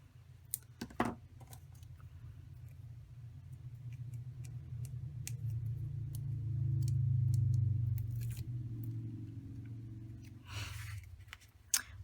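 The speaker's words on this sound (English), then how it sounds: "I'm just going to snip it off right at the end" Scissors snip the end off a foam adhesive strip at a papercraft card-making table: a couple of sharp, close clicks near the start and one at the very end, over a low steady room hum with no talk.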